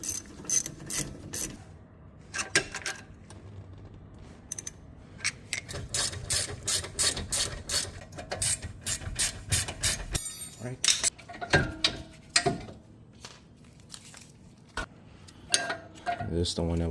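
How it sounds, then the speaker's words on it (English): A 9mm ratchet clicks steadily as it winds a rear brake caliper piston back on a Jaguar F-Pace, close and fairly loud, with a few metallic clinks between bursts of clicking. "I use a 9mm to turn this clockwise, while using the flat blade screwdriver to just push this back"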